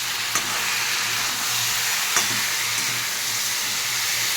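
Fried eggplant, lentil bori and bitter gourd are stirred in a pan, under a loud, steady frying sizzle with a few faint utensil taps.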